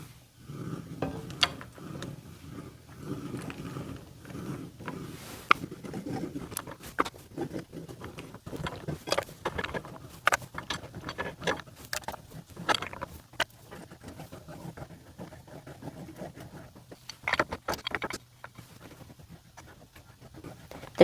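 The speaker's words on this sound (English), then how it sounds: "you want to stir constantly during this process" Spoon stirring melting chocolate in a pot, soft irregular scraping and clinking taps against the pan, close and fairly quiet, continuing steadily throughout.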